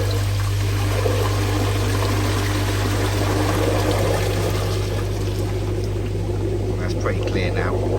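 Water purging and draining from a Nexus 220 unit, a steady pouring trickle running continuously under a constant low hum throughout.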